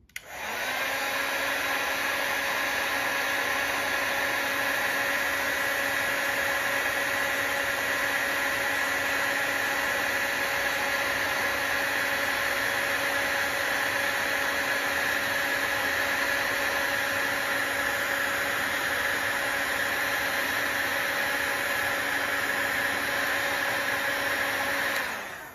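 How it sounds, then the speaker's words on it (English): A heat gun shrinking heat shrink tubing that has glue inside, giving a loud, steady, close blowing whine with a constant pitch that runs without a break. "This is a heat gun. I'm gonna shrink the tubing down."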